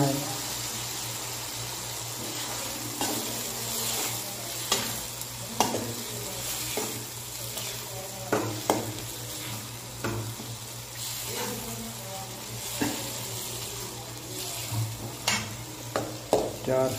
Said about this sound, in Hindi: मटर को भून लेना है